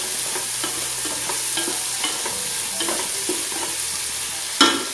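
A spoon stirs soft cooked tomatoes in a sizzling frying pan for mushroom pulav, with repeated scraping strokes over constant frying hiss and a sharper clatter near the end.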